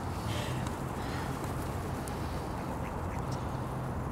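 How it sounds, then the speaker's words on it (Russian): Ducks quacking as they run about on an island, a steady outdoor chorus of calls over low, continuous ambient noise, moderately distant and fairly faint. "Утки бегут, голуби летят."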